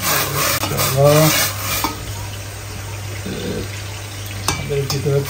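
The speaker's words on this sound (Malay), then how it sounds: "ini ayam sedang kita goreng" Chicken for a spicy chicken dish sizzles in a frying pan while being stirred, with steady hot-oil crackle and scraping strokes close up, and no talking.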